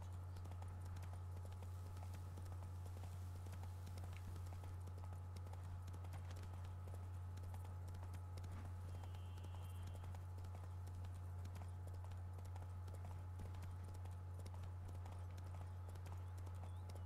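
Hooves of Geralt's horse Roach in Witcher 3: Blood and Wine, a faint steady clip-clop over a low constant hum, with no talk.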